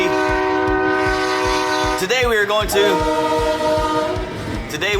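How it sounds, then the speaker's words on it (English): A loud multi-tone truck air horn from a universal spare tire air horn kit blares steadily, then breaks into short warbling blasts before sounding again, with a low rumble underneath. "the universal spare tire air horn kit"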